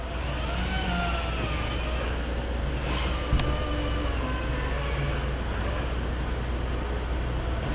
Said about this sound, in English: And you can verify that the vehicle is running.